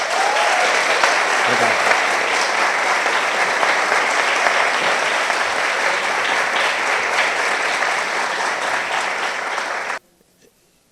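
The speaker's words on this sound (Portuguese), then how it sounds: "eu peço uma calorosa salva de palmas" Warm audience applause for a guest at a university lecture hall event, a dense steady roar of clapping lasting about ten seconds before cutting off sharply, with a single spoken word after it stops.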